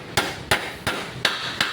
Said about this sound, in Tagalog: pukpukin muna natin yung martilyo para lumapat ha